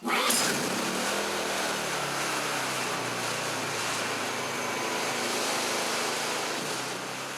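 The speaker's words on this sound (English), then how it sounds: "Pull the pull start out until you feel resistance, back in and swiftly pull the pull start." A Hyundai 2000sei or 3000sei generator is pull-started. Its engine catches at once and settles into a loud, steady running drone that carries on for several seconds with no talking.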